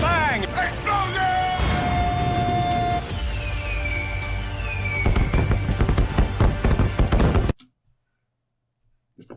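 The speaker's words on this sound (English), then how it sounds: "Bang! Bang! Explosion!" Loud explosions and crashing blasts from a tank battle, with sharp bursts and booming impacts over music and voices, ending abruptly in near silence.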